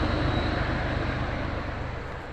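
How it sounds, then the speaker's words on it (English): A train rushes past near Walden Pond as a loud, dense roar that stays broad and constant and fades slightly toward the end. "that's the train."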